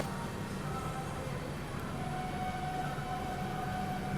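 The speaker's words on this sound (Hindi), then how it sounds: "ये ट्विन डीजल लोकोमोटिव, इस तरफ WG9 कानपुर शेड का।" A twin diesel locomotive train on Indian railways, WG9 Kanpur shed, pulls out of a station. The engine rumble is steady and fairly distant, with a faint tonal drone and no talk.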